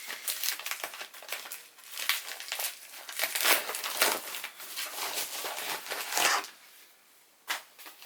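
A crinkly plastic pouch from a monthly lip and brush subscription box is handled and torn open close by, with dense crackling and rustling bursts that ease off near the end.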